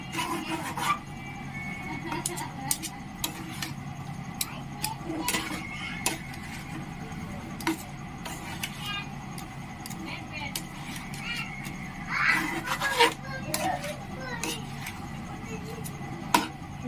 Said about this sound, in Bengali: এভাবে আমি শুকনো শুকনো করে মিশিয়ে নেবো।